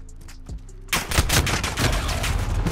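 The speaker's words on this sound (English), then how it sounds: "Oh, shotguns now." Heavy shotgun blasts in Modern Warfare, a dense burst of loud overlapping shots and gunfire that starts abruptly after a quiet opening and keeps going steadily to the end.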